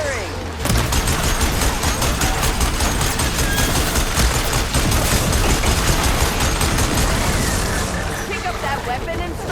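Continuous rapid weapon fire in Horizon Forbidden West rattles loudly and densely for several seconds, mixed with game effects and battle noise.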